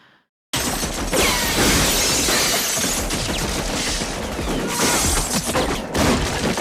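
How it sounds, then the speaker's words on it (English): Loud, sustained machine-gun fire from the film L.A. Confidential bursts in after a brief quiet moment and roars on as a dense, unbroken barrage. "Machine guns."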